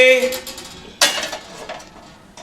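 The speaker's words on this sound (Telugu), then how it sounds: "తర్వాత గిన్నె పెట్టుకుందామండి." A metal cooking pot is set onto a stove in a home kitchen with a sharp clank. Ringing metallic clatter fades over the next second or two.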